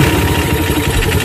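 A repaired motorcycle engine idles right after being restarted, a brief close, loud, steady low rumble with rapid regular pulsing.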